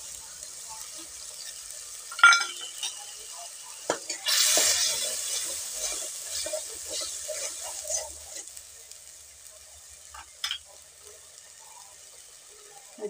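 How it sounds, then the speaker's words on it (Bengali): Egg curry masala with salt and turmeric is sautéed in a pan, making soft scraping and a low sizzle over thirteen seconds, with a few clinks and one louder hissing stretch near the middle. "মশলাটা ভালো করে কষিয়ে নিতে হবে"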